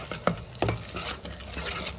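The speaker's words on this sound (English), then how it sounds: "So here I'm adding the prawns, and let me fry them till the masala is done." Prawns fry and sizzle with masala in a pan, with steady sizzling and a few sharp stirring scrapes and clacks, close and fairly loud, no talking.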